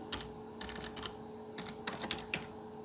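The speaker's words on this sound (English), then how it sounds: "I'll type that in" Rapid keystrokes on a computer keyboard as a street name is entered into an online map, a quick run of close, clicky taps in short bursts with a steady low hum behind them and no talking.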